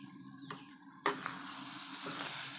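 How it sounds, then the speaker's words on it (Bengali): Eggs are stirred as they fry in a pan with a gentle hiss that swells into louder sizzling after a spatula clacks against the pan, with a few more scrapes following. "ডিমগুলো একটু লাড়িয়ে ছাড়িয়ে দিচ্ছি।"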